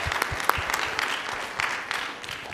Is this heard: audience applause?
yes